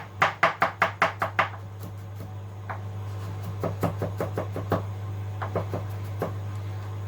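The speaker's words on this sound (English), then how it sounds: "Just going to roughly slice and chop them up." Garlic cloves chopped roughly with a knife on a board, a quick burst of sharp chops followed by slower, softer cuts at a steady rhythm, close and alone against a low steady hum.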